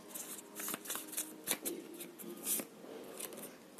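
A tarot card drawn from a deck during a reading, soft papery shuffling and flicks with a few sharper snaps, quiet and close, no speech.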